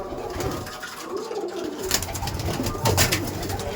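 Madrasi pigeons cooing in a loft, soft low rolling coos close by with some fluttering and shuffling bursts, no talk.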